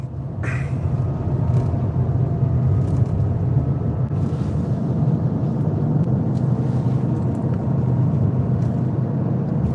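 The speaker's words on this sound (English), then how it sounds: "Of course, a car." A car passes outdoors on a road in rural Florida, a loud continuous low rumble and tire roar that stays steady across the whole stretch, with faint birdlike calls at the start.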